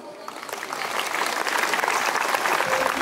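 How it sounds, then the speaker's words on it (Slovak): A crowd at a Mother's Day folk event in Liptovské Sliače applauds the folk group Sliačanka, the clapping swelling slightly into a full, sustained ovation. "váš potlesk im zaslúžene patrí"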